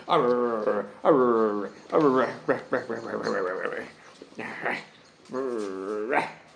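A dog whimpering and yelping indoors close by, a run of high, wavering whines and short barks coming in several bursts with brief pauses between them.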